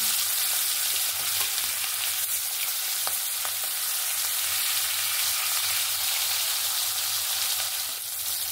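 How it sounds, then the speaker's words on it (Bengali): Loud, continuous crackling sizzle of hilsa fish frying in oil, close and unbroken, with faint occasional spatters and no talking. "এগুলো যেহেতু চড়ে ইলিশ সেই জন্য একটু ভেজে নিলে ভালো লাগে খেতে"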